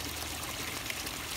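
Water drains through the rock media of an aquaponics grow bed, a steady close trickle and light splashing that runs continuously without pause.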